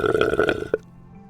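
One loud, close burp rolls out for under a second, then cuts off into near silence.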